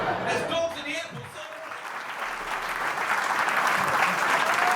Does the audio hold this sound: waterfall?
no